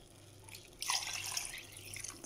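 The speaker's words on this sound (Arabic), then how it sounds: "كيف ما كتشوفوا 3 زليف ديال الماء غنضيفهم على الزلافه ديال الروز" Water poured from a bowl onto rice in a cooking pot, a soft splashing pour that starts partway through and continues steadily at close range, with no talking.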